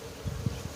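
Honeybees fanning at the entrance of a hive, a low, steady buzzing hum with a few slightly louder pulses in a short, close burst.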